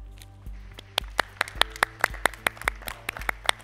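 A small production crew claps to stand in for an audience at a wine awards announcement. The handclaps are sparse and uneven, sharp and close, with a few steady beats over a low hum.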